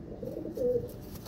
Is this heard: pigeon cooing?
yes